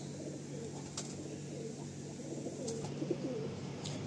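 Domestic pigeons in a loft cooing faintly in the background beneath a steady hum, with a few soft coos and light clicks.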